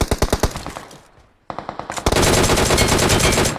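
Rapid DP-28 machine gun fire in the BGMI mobile game, loud dense bursts of fast shots broken by a brief pause, then sustained continuous firing.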